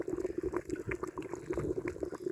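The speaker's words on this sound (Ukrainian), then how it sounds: "Так, якщо звернемо увагу на відро, реакція йде прекрасно. Гаситься вапно наше." Quicklime slaking in a bucket for spring orchard treatment, fizzing and bubbling with a busy crackle of small pops and a steady seething hiss, heard close and alone.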